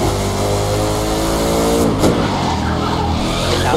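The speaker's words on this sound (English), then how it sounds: "Bugatti Chiron." A Bugatti Chiron in The Crew 2 racing game drives with a loud, steady engine roar while its tires squeal in a skid, the sound continuous and close, with no talk.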